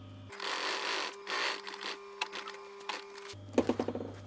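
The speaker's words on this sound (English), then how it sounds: "So I'll sew the pocket on while I'm sewing the bolster on at the same time." Sewing machine stitching a pocket and bolster onto a seat cover for a VW T5 Transporter, running in steady bursts with a close, whirring rhythm, then a short run of quick separate stitches at the end.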